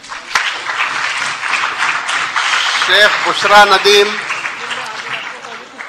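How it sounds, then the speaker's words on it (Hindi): Applause at a school Bait Bazi poetry competition in Aurangabad, a crowd of hands clapping continuously under a man announcing names over a loudspeaker. "तालियां बजाइए।"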